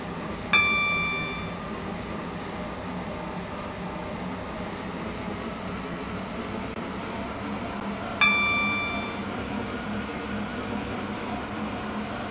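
Onboard ride on a Waterline passenger train in the Roblox game SCR, a steady low rumbling interior hum with two bright chime dings spaced several seconds apart, no talk.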